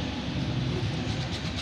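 A Sydney suburban train at Rhodes station rolls past nearby, a steady loud rumble of wheels and motors filling the whole moment.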